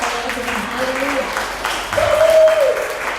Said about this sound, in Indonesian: Boleh berikan tepuk tangan kepada Tuhan.